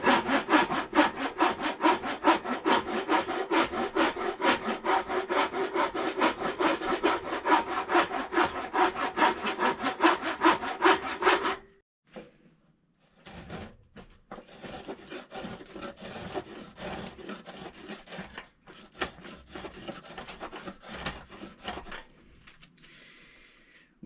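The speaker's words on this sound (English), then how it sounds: "It's time to start getting the old raspy files out and trimming some nice curvy" A rasp file shaping wood for a slingshot, making loud, rapid back-and-forth scraping strokes close up, then a pause followed by lighter, more irregular rasping.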